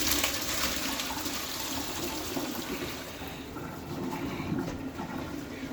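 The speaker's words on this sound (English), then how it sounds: "we are just going to drain this off in here" Hot water from boiled celery pours into a pot as it is drained, a steady, close, continuous splashing rush that never stops.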